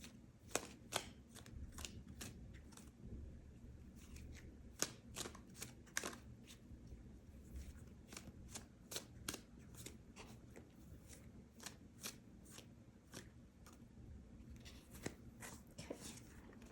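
Close, soft riffling and snapping of a tarot deck being shuffled by hand, with quick flicks and taps repeating in an irregular rhythm against a quiet background.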